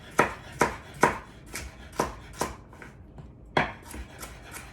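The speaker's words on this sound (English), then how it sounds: "This one definitely cutting into half moons." Vegetables being cut into half moons with a knife on a cutting board while preparing chicken orzo soup, about nine crisp, evenly spaced chops that thud close and clear, each with a short ringing decay.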